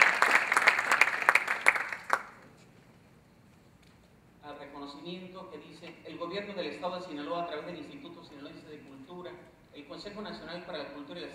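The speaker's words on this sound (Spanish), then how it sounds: "Un aplauso para la maestra Linton, por favor" Audience applause at a national dance award ceremony, a short loud burst of clapping that quickly fades, followed by a person speaking over a quiet hall.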